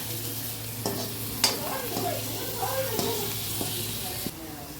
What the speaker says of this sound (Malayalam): ഇനി നമുക്ക് ഇളക്കാം, യോജിപ്പിക്കാം.